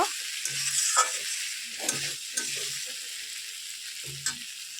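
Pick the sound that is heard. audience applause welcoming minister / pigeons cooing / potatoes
potatoes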